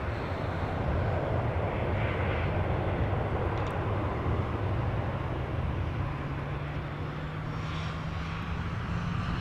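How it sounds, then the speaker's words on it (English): A KLM Boeing 787-10 Dreamliner arriving from LAX at Amsterdam roars steadily and loudly throughout, a continuous broadband engine rumble with no breaks. "KLM Flight 604, which is a 787-10 Dreamliner arriving from LAX"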